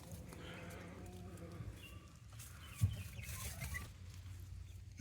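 Young chicks peep faintly in a brooder by their feeder, thin high chirps scattered over a steady low background hum, with no clear talk.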